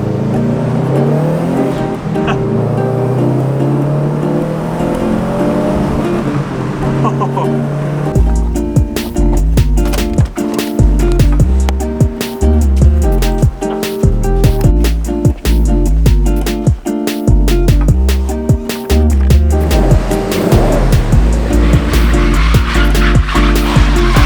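A new Subaru WRX accelerates hard in a steady engine drone that swells into a loud, continuous roar with choppy, crackling texture, heard up close for the whole stretch with no talking.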